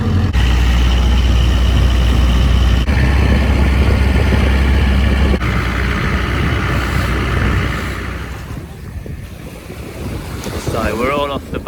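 A tour boat's engine drones steadily as it heads out from Ao Nang, Krabi, with heavy wind buffeting the microphone and water rushing past. The roar eases toward the end, where a faint voice comes through.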